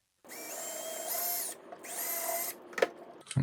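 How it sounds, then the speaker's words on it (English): A power drill bores a pilot hole for screws into a 3D printed part for a robotic arm build, running in two steady whining bursts with a short pause between, followed by a few small handling clicks. "drill out the 3D printed part a little bit, just to make more of a pilot hole for the screws to thread themselves into"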